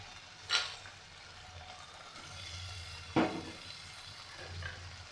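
Fried potatoes and prawns drop into a pan of cooking banana flower, giving a soft continuous frying sizzle with two sharp scraping clatters and gentle stirring between them.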